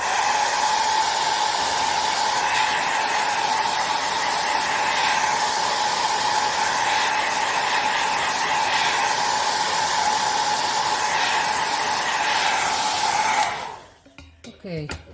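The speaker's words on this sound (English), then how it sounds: "So I'm just going to use my heat tool quite quickly." A handheld heat tool blows hot air over a mixed media art journal page, a steady loud whooshing roar that holds for about thirteen seconds, then cuts off abruptly, leaving a few faint handling noises.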